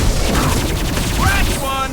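Gunfire and explosive blasts in the video game Mass Effect 2 sound in a dense, rumbling burst, with a character's voice and bright synthetic effect tones over the shooting.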